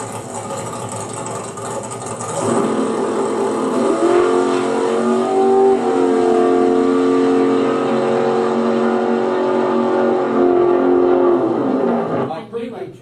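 A drag racing car at a drag racing school makes a run, its engine revving loud and close in a sustained roar that climbs in pitch, holds steady, then drops away near the end.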